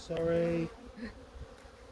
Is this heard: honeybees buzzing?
yes